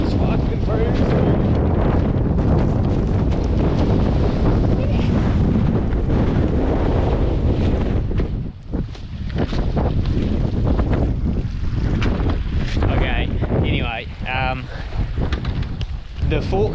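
Strong wind blowing outdoors in Westland's front country, a loud continuous roar buffeting the microphone, easing briefly midway before gusting again, with a voice briefly audible over it.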